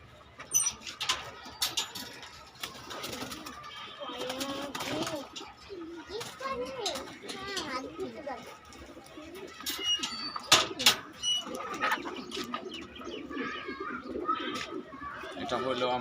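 Pigeons coo over steady flapping wings as a young red checker bird of a foreign breed is released, with voices talking throughout and bursts of wingbeats close by.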